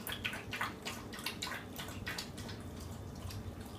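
Quick wet lapping and splashing at close range, a rapid irregular rhythm of a dog drinking water from a bowl.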